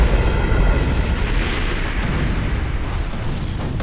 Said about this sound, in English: triggering a supernova explosion